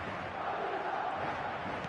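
A big stadium crowd roars with a steady, dense cheer in an eFootball 2025 match, loud and continuous and with no breaks.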